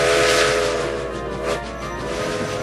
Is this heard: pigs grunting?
no